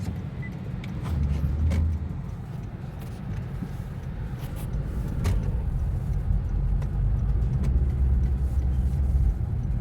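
A Honda Shuttle is driven on the road to test a wheel bearing from Thailand, a steady low engine and tyre rumble sustained throughout with slight surges, heard from inside the car without talk.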